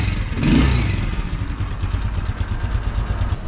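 An Avelloz motorcycle with a flat battery, kick-started by pedal, fires up with a loud rush and settles into a steady, close, low pulsing idle, with no talking.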